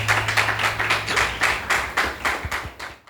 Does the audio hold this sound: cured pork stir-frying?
no